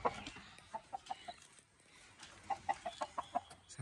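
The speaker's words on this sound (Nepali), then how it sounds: "ससुरालीको कुखुरा मलाई यो भाले काटेर खुवाउँछ क्या हो" A rooster clucks in a rapid series of sharp, fairly close calls, pausing briefly before another burst, over a faint rural background.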